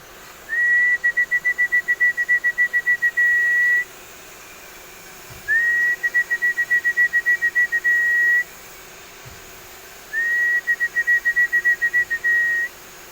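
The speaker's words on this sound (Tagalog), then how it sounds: "Kilala nila yung sipol na nagpapakain." Three long runs of rapid, repeated high-pitched whistle notes, each lasting about three seconds with pauses in between, sounded loud and close by a person calling birds in for feeding.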